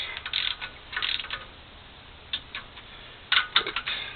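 A torque wrench clicks as wheel lug nuts are tightened in a crisscross pattern, giving sharp, close ratcheting clicks in short bursts with brief pauses, alone and without talk.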